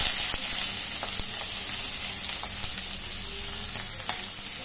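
Onions fry in hot oil with potatoes and panch phoron spices, a steady near sizzle broken by occasional clicks and stirring scrapes, without any voices.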